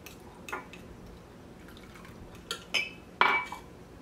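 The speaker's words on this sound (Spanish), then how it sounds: "Vamos a mezclar esto bien." Anticucho marinade being mixed in a bowl for beef heart skewers, with a few scattered clinks and scrapes of utensil against the bowl and light liquid sloshing, quiet and close with pauses between strokes.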